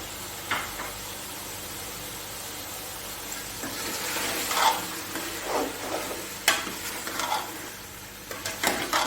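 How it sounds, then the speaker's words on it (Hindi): Peas fry in a pot for chicken pulao, a low steady sizzle under repeated scraping and clinking as a spoon stirs them against the metal, close and fairly quiet, with no talking. "इसी में मैं डालूंगी मटर, और इसको अच्छी तरह भून लूंगी"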